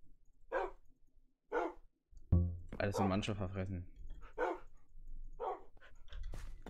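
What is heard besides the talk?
Minecraft dogs barking, video game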